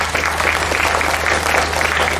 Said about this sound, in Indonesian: mohon tepuk tangan untuk Pak Gunati